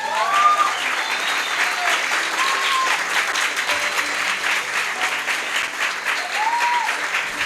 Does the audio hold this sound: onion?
no